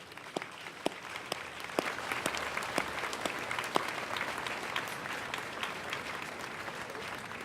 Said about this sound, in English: start the evening off with a round of applause for all of them